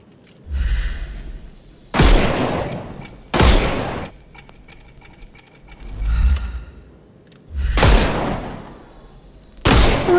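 Rapid gunfire from shooting the armour off enemies in the Sherlock Holmes Chapter One video game, heard as about six loud separate bursts of shots spaced a second or two apart, with quiet gaps between them.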